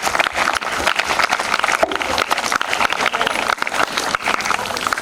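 A crowd at a school Republic Day program claps continuously, dense and close applause sustained throughout with a few louder hand claps.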